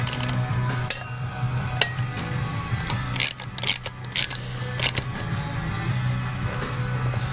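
Bolts on a GoPed rear wheel are tightened with a ratcheting tool, close metallic clicks and clinks in short bursts over a steady low hum.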